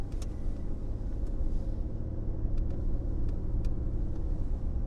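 A Jeep Liberty engine drones steadily in drive while pushing through deep, icy snow, a low, even rumble with faint crunching clicks scattered over it and no talking.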